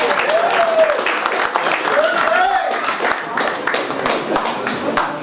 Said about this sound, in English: This is when you guys clap and tell me how wonderful it is.